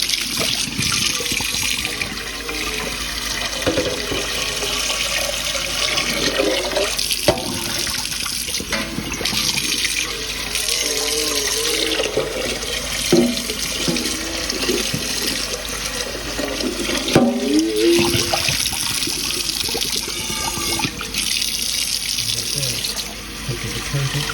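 Water runs steadily from a kitchen tap into a sink while residue is rinsed out before soap goes in, a continuous splashing rush with shifting gurgles as dishes move under the stream.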